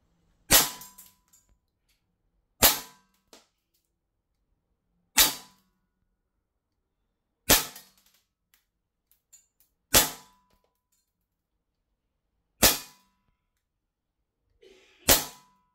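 A gas airsoft gun running on red gas fires seven sharp, isolated shots spaced about two seconds apart, each a loud crack with a short decay in an otherwise quiet space.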